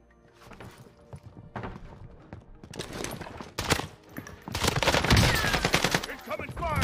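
Gunfire in Call of Duty Warzone, scattered shots early building into louder bursts and rapid volleys toward the end, with footsteps and faint voices mixed into the game noise.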